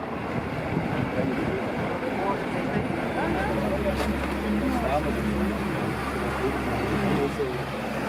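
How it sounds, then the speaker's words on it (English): Steady engine drone and rushing water hiss from a moving boat on a river trip in Costa Rica, with a low motor hum growing partway through and wind buffeting throughout. "we boarded a boat for the last 15 miles of our journey"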